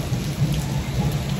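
Pouring rain with thunder during a sudden storm, a dense steady hiss of rainfall over a low rumbling roll, loud and continuous throughout.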